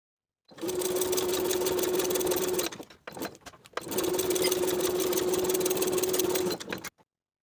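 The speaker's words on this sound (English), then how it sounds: "Edge stitch the fold of the placket in place." A sewing machine edge stitching the placket fold of a shirt jacket runs in two steady, close bursts of rapid stitching, separated by a brief pause with small handling clicks.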